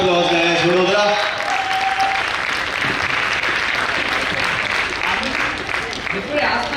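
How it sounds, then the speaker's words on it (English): Audience applause at the Vadodara literature festival session on Indian culinary heritage: loud, dense clapping that swells in after a voice and holds steady, with a host's voice near the start and again at the end. "Give a huge round of applause, guys."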